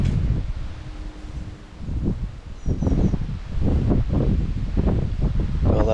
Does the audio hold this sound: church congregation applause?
no